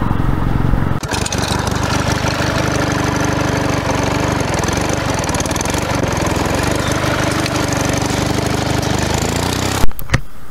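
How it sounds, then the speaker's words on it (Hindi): A Royal Enfield Classic 350 BS6 engine runs loud and rough as its petrol runs out, a steady thumping drone that sputters briefly and cuts out near the end. "बाइक अभी थोड़ी थोड़ी बंद पड़ रही है, इसका मतलब पेट्रोल खत्म हो रहा है।"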